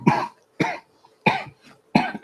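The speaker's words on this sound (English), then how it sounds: "I predicted a coughing fit, and it's happening." Four sharp, separate coughs come in a steady rhythm, close and fairly loud, with short silences between them.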